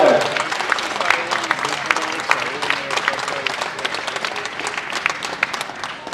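An audience at a sports award ceremony for an athletics club applauds, a dense, sustained clapping of a sizeable crowd that stays loud throughout, with faint voices beneath.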